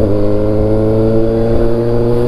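Kawasaki ZX636 motorcycle engine misfiring on only two cylinders, droning loud and close at a steady low rev with a rough, uneven hum and a brief blip partway through.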